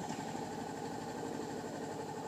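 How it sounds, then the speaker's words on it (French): A Honda CBF500 ABS 2013 motorcycle engine starts and idles steadily up close with an even, low chugging rhythm and no voices. "Je mets en marche le moteur."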